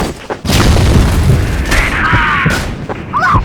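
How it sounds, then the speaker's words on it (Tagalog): A flashbang grenade goes off in a Counter-Strike style clan match, a loud sudden boom followed by sustained roaring noise and a ringing whine, with faint game sounds near the end. "Flash bomb!"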